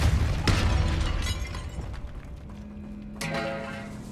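A Depulso spell cast in Hogwarts Legacy inside a tomb by an altar: a sharp magical burst opens, then another bright blast lands near the end, with a low ringing hum lingering between them.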